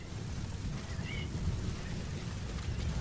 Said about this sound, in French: Oh, il y a une tempête de sable en plus.